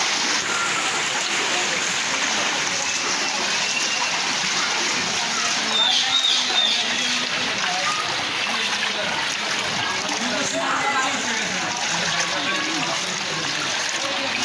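Floodwater splashing and rushing through flooded city streets after hours of heavy rain, a steady, loud, unbroken wash of water with voices faintly under it.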